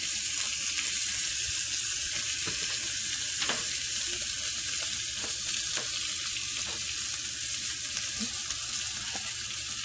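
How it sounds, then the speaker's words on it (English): Strips of bacon, destined to wrap filet mignon, sizzle in a hot skillet: a constant, even crackling hiss runs throughout with a few sharper pops, no voices over it. "I want to kind of get the bacon starting to get crispy."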